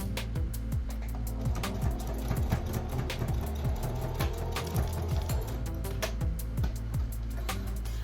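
A sewing machine back stitching a face mask, with a steady fast mechanical clatter of needle strokes running continuously, close and even in level, with no voices.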